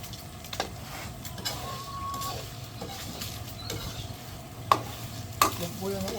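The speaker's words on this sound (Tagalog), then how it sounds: "Luto tayo ng ostrich." Ostrich meat stir-fries in a pan, sizzling continuously while a utensil stirs and scrapes, with a few sharp clinks of metal against the pan standing out.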